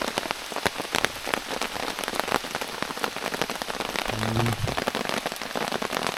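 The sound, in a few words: heavy rain falling in the forest at night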